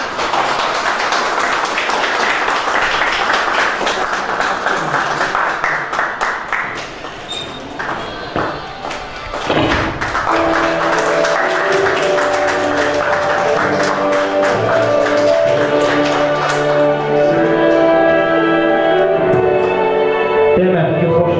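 An audience claps steadily to welcome an author onto the stage at a book launch, a dense wash of applause for several seconds that then gives way to music.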